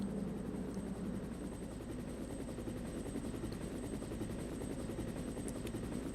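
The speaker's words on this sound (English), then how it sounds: "It will bring the helicopter here." Rescue helicopter in the Resident Evil video game, a steady, loud rotor drone with rapid rhythmic blade chop throughout, alone with no voices.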